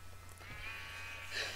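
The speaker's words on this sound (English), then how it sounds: "Now I wish I didn't spawn all those sheep." Minecraft sheep bleat in a modded survival game, short nasal bleats rising over a faint steady background hum, fairly quiet and brief.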